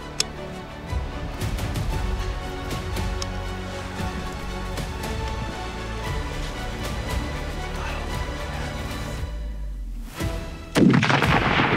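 A 300 PRC rifle firing a Hornady 212 grain ELDX bullet during a bear hunt in steep terrain; a sharp report near the end follows a long stretch of crackling, rustling outdoor noise.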